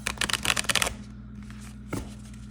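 A new tarot card deck with a bend in it is riffle-shuffled, giving a rapid flurry of crisp card flicks for about a second, then a pause and a single short riffle, close and quiet.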